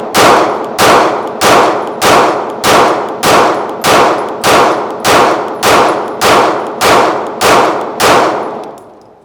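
A Staccato CS compact pistol fires about fourteen loud, evenly spaced shots at a range, each one a sharp crack with a ringing clang from steel targets, and a rapid steady rhythm runs through the string.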